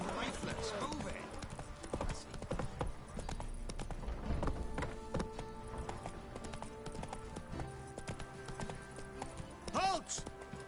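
A horse gallops in The Witcher 3: Wild Hunt, with rapid rhythmic hoofbeats running steadily under game music and spoken dialogue, and a brief whinny near the end.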